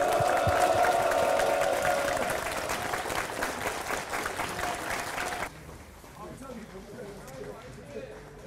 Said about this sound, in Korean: 곧 만나게 될 우리 위원장 동지를 향해서 힘찬 승리의 박수 부탁드리겠습니다